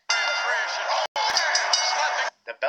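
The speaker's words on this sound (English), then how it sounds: "The bell rang" A wrestling ring bell at WWE WrestleMania 17 clangs loudly in two long sustained rings separated by a short break, followed by a couple of quick fainter taps.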